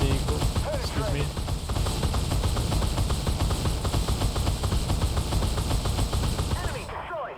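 Rapid autocannon fire from an XM247 Sergeant York in the tank game Armored Warfare, a continuous stream of dense, fast bursts loud and close throughout, fading slightly at the end.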